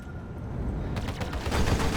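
Spaceship guns in Star Citizen open up after a short low hum, rattling off a rapid train of punchy shots that builds louder toward the end, with no voices.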